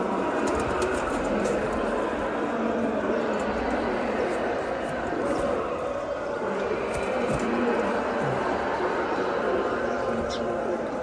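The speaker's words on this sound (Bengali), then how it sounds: "মাশাআল্লাহ অনেক সুন্দর কবুতর" Pigeons coo softly in a loft, their low calls half-buried in a dense, steady wash of background noise that runs through the whole stretch.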